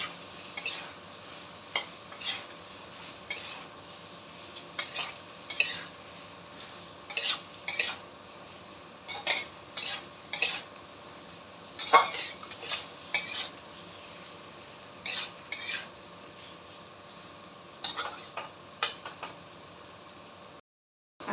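A utensil stirs and scrapes garlic chicken in a pan, making repeated irregular clinks and scrapes over a faint background, close by, with no talking.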